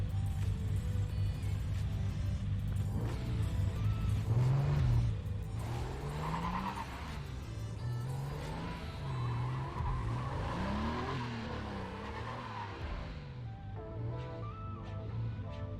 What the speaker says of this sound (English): Carrera GT, it's a very odd Porsche.